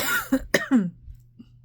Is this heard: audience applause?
no